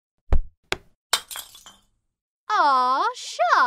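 A glass perfume bottle thrown and smashed: a few sharp clinks and a loud, close shatter with scattering fragments, followed by a voice speaking.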